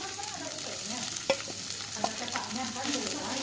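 Shredded mackerel tuna stirred in a hot pan with fragrant sautéed aromatics, giving a steady close sizzle with scraping stirs and a couple of sharp clinks of the utensil against the pan.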